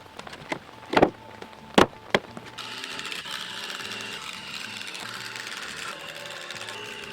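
Three-inch coated, treated-lumber-approved screws driven through an outdoor deck stair riser into cleat ends, heard as a few short loud bursts of a power driver near the start, followed by a steadier mechanical whir and rattle that continues to the end.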